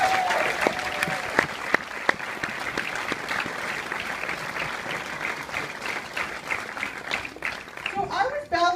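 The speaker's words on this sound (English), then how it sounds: "A little applause" An audience at a film Q&A for Flock of Dudes claps steadily in a theater-style room, a dense, even patter of applause lasting several seconds, with a voice starting up at the very end.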